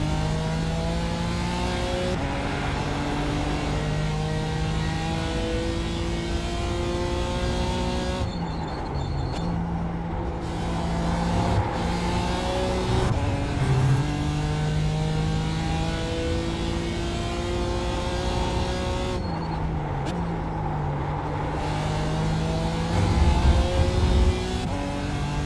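Race cars in an iRacing GT session including a BMW and an Aston Martin, a loud sustained engine whine climbing through several gear changes with brief dips at shifts and faint tyre noise, no talk over it.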